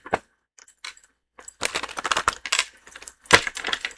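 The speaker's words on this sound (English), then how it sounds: "we're going to give it 3 shuffles" A deck of tarot cards is shuffled up close in short bursts of riffling, slapping card noise separated by pauses, with no talking.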